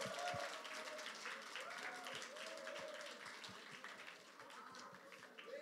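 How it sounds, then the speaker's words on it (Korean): An audience gives a soft, distant round of applause to welcome a speaker stepping up to testify, the clapping steady and subdued with faint voices mixed beneath it. "큰 박수로 맞이해 주시면 감사하겠습니다"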